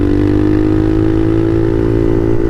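A Bashan Motomax 250 supermoto motorcycle engine running steadily with a loud, close, even drone and a constant pitch, with no voices over it.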